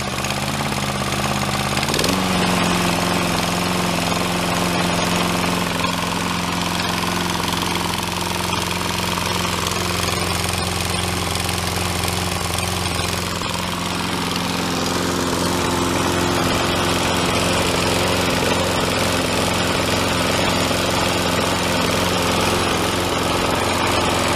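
A 21-inch Sears Craftsman small-engine lawn mower idling roughly, a loud, close, continuous drone that sags in pitch after a couple of seconds and then holds an uneven, slightly lumpy idle throughout, no talking.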